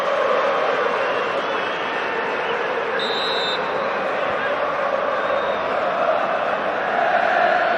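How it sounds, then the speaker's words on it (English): A football stadium crowd at a UEFA Cup night match makes a constant loud roar, a dense wash of noise under a commentator's voice. "the crowd is never stopped making a lot of noise here tonight"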